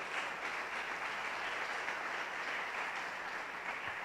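A church congregation applauds steadily, a broad, even wash of many hands clapping together for several seconds at moderate volume from across a worship hall.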